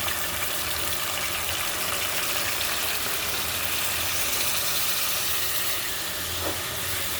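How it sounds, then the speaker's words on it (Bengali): Hot water poured into a hot pan of spiced onions and fried pangas fish for a curry brings a loud, steady steaming hiss that fills the whole stretch, close by and with no talking. "দিয়ে দিচ্ছি একটু গরম পানি।"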